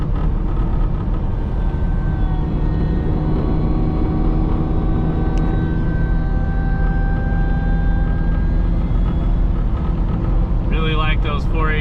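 Third-generation Toyota 4Runner with 4.88 gears cruising in 5th gear around 75 mph at 2,800 RPM, a steady loud cabin drone of engine and road noise throughout, with a brief rattle near the end.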